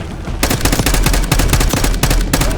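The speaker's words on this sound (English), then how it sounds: "We've got a hostile with a minigun" Minigun fire in Call of Duty Black Ops 6 roars as loud, rapid sustained bursts, with dense overlapping shots and short breaks between volleys.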